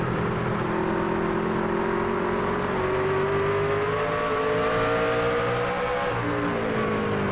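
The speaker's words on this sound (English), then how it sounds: "Just listen to the differences in how they drive the truck." Race truck engines in a NASCAR truck racing video game drone steadily at high revs, with several engine tones rising and shifting as the trucks run through corners. The roar is loud and continuous.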